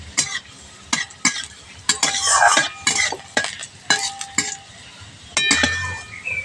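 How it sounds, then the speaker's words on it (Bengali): Chopped garlic frying in a pan while being stirred, heard as repeated scraping clinks of a utensil against the pan over a soft sizzle, close and moderately loud. "প্রথমে রসুন কুচিটা দিয়ে দিচ্ছি রসুন কুচিটা দিয়ে প্রথমে হালকা করে একটু ভেজে নেবো"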